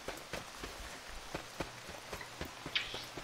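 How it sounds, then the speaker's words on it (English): Rain falling in the survival game H1Z1, a soft steady patter with sharper drop-like taps at a loose rhythm, fairly faint and close, with no talk. "Rain, go away."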